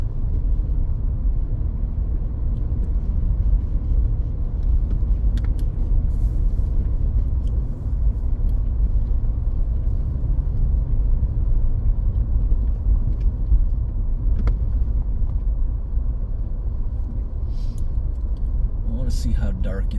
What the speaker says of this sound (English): I love driving in the snow.